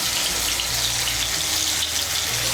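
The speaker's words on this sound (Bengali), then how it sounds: "তেলটা গরম হয়ে গিয়েছে। এর মধ্যে আলুগুলো ভেজে নিচ্ছি।" Potatoes frying in hot oil, a steady close hiss and sizzle with a bubbling wash throughout, no talking.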